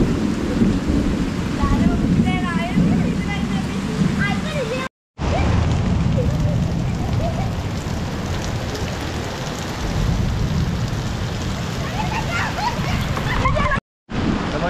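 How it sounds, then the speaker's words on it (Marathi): Heavy first monsoon rain pours down in a Konkan village, a dense, steady roar of downpour with rumbling thunder, loud and close, broken by two brief dropouts, with a voice speaking over it early on. "तर मंडळी जोरात पाऊस आलाय, आता जोरात आलाय."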